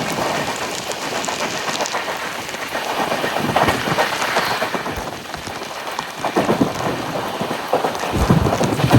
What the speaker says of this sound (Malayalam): അങ്ങനെ മഴയാണ് ഇനി ഫുൾ അങ്ങോട്ട്.